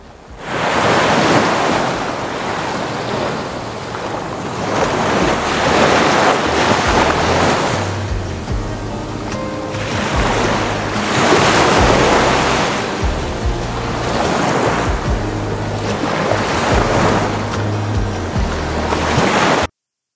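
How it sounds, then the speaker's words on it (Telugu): Ocean waves breaking on Murudeshwar beach beside the temple, loud and continuous with repeated surging swells every few seconds and heavy wind rumble across the microphone. "మనకి ఈ మురుడేశ్వర్ టెంపుల్ పక్కనే మురుడేశ్వర్ బీచ్ అయితే ఉంటుంది."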